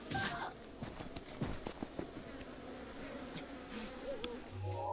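Bees buzzing in the Breath of the Wild video game, Master Mode, a steady insect drone with shifting game sounds and some footstep-like taps throughout.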